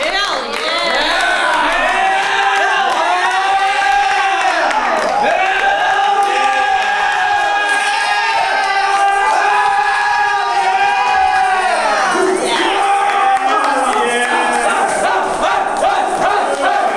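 An audience cheers and yells loudly and continuously, a packed crowd of raised voices roaring together without a break, close and intense throughout.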